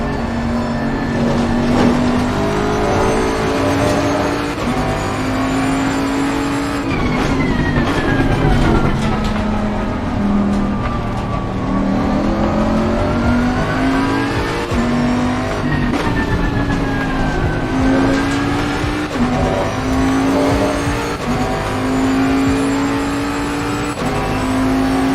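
Onboard a racing Audi during the Spa 24 Hours, the engine drones loud and steady throughout, its pitch rising and falling through gear changes and corners with constant road and wind roar and no talk.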